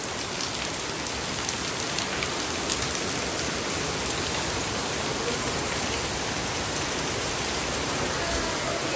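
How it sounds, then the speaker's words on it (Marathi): Heavy rain pours down in a dense, unbroken hiss, drops pattering on surfaces all around, loud and close. "फुल पाऊस आहे आज"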